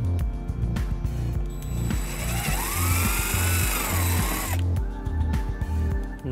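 A power drill whirs up and bores a hole during wiring harness installation on a 2008 Toyota Camry, a sustained rising whine, with short mechanical bursts and clicks before and after.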